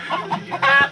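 A black rooster at the Satyawati fair gives a few short, loud clucks close by, quickly repeated, ending in a slightly longer call.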